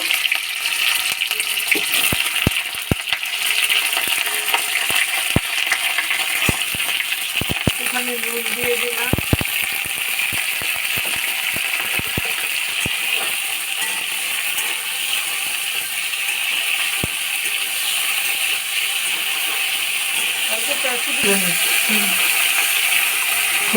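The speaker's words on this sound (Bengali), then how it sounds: "এবারে ফুলকপিগুলো ভেজে নেবো" Cauliflower pieces fry in oil in a home kitchen, producing a constant hissing sizzle punctuated by sharp clicks and taps of a utensil against the pan, close and fairly loud.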